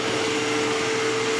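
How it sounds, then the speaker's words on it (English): Bridgeport milling machine cutting steel with a 4mm carbide cutter, a loud steady whine with a sustained tonal hum and no breaks over the short span. "I come down with a carbide 4mm cutter, and I just whisker away at this steel"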